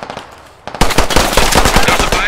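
Gunfire in the video game Squad: after a quiet moment, sustained rapid machine-gun bursts erupt loud and close, dense and continuous to the end, with a voice faintly under it.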